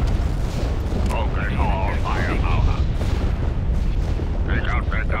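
Laser cannon fire and explosions rumble through a space battle in Star Wars Empire at War, a dense, loud, continuous barrage, with a voice speaking over it.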